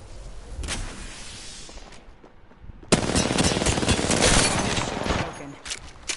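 Rapid automatic gunfire from the battle royale game Apex Legends, a burst of shots, a short lull, then a louder sustained stream of close, dense firing.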